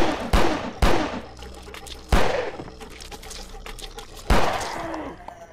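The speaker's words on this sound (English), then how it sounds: "Took like 5 shots to kill that thing." Gunshots fired in a first-person survival horror game, several loud sharp blasts at irregular intervals, each cracking with a short echoing tail, with game ambience and faint rumble between shots.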